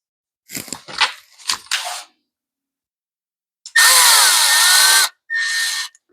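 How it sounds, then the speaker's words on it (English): A few short handling clicks and scrapes, then a power drill whirs loudly for about a second before a shorter second burst drives a screw into an Echo blower during a carburetor rebuild. "if you use a power tool to do this, make sure you use one with variable speed"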